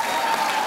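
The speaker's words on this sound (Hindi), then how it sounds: "तो ताली बजाओ" Steady studio audience applause at a comedy talk show, a dense continuous patter of many hands clapping, evenly loud throughout the short stretch.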